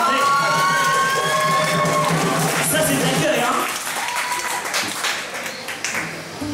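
Applause from the audience at a private concert at an embassy, dense clapping early that thins out, with people talking over it.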